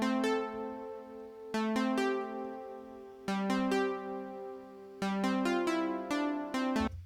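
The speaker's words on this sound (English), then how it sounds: "I have this ARP sound that is playing on this second track" Synth arpeggio from a MIDI track in Ableton Live, plucky repeating notes in steady patterns with periodic chord shifts every couple of seconds, clear and alone with no talking.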